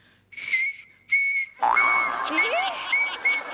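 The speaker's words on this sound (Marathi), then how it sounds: "ह्याने शिट्टी वाजते" Shrill, piercing whistle blasts blown through a pen cap, first two short bursts and then a longer wavering one with a hissy, breathy edge, close by.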